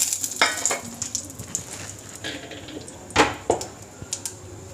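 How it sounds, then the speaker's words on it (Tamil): Spices for tempering (bay leaf, curry leaves, cumin, mustard seeds) crackle and sizzle in hot oil, with scattered pops and a few clinks of a pan, close by and without speech. "இப்போ தாளிக்கிறதுக்கு அந்த பிரிஞ்சி மசாலா பொருளெல்லாம் அதில் போட்டுக்கோங்க."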